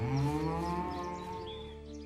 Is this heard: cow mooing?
yes